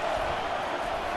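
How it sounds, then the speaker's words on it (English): Stadium crowd noise in the College Football 25 video game during Virginia vs Virginia Tech, a dense, loud, continuous roar with no break over the short stretch. "This crowd trying to make life miserable for this offense."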